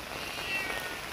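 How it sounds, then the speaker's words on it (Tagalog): A cat gives a faint, brief meow over a soft background of falling rain during a rainy day in Nepal. "Yung pusa ko nandoon, ngiyaw, ngiyaw, sabi niya."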